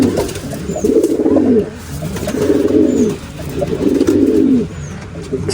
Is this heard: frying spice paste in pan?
no